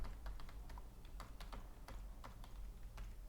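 Quiet, steady typing on a computer keyboard while a password is entered, light keystrokes clicking in an irregular rhythm over a low background hum.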